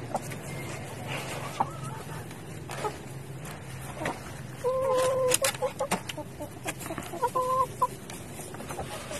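Hens cluck in a rooftop chicken coop, a steady run of close, moderately loud clucks and squawks over a faint background hum.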